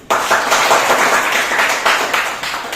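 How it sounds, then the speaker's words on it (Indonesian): A classroom group claps hands together during a teacher training session in Makassar, a loud, close burst of rapid, uneven clapping that carries on steadily for a few seconds. "sekali lagi Pak berikan tepuk tangan dulu"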